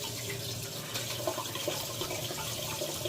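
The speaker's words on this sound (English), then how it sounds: "Once the water is filled up to the rack in the pot" Water steadily running into a pot being filled for distilling orange peels, a continuous rushing pour that stays close and fairly loud throughout with no talking.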